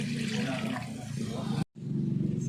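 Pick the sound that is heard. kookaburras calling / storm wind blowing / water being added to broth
water being added to broth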